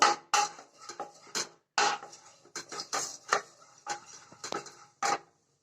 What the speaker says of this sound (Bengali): ঘিটাকে ভালো করে কড়াইয়ের চারিদিকে লাগিয়ে নেব